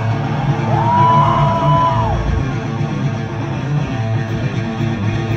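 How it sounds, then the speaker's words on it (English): A loud punk concert crowd in Austin, Texas yells and screams continuously, a dense roar of many voices with one whooping voice rising and falling above it. "Everybody's screaming."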